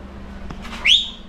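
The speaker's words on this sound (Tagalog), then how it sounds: "Sumipol ka." A person gives one short whistle at a birthday celebration where ducks are being cooked: a brief, rising, high-pitched tone after a faint click and a breath, fairly close against quiet room hum.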